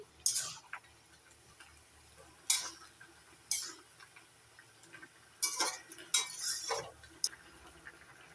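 Metal lid lifted off a pan of cooking gourd greens, then a spoon stirring the leaves: a few sharp clinks and scrapes scattered across the span, fairly quiet and close, with no talk.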